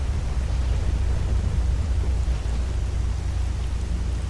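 Steady, dense rainfall with a deep rumbling low end like distant thunder in a STALKER Dead Air mod game, a continuous loud wash of noise with no voices.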